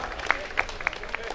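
An audience claps for a singer, with light, scattered applause and a few distinct sharp claps.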